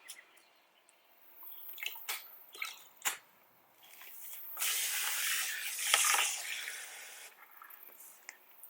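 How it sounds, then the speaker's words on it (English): Diablo gel wheel cleaner sprayed onto a car wheel, a few quick short spritzes followed by a longer hissing spray burst, close and fairly quiet, with faint drips and handling noises. "I'm gonna use like 2 ounces of Diablo gel wheel cleaner."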